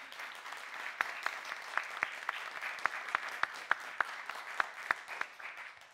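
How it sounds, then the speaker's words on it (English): Audience at a FameLab science-communication contest semi-final claps to vote for a contestant, a sparse, quiet patter of individual sharp claps at an irregular rhythm over a soft background hum. "Remember, it's the volume of your applause that counts, not the cheers."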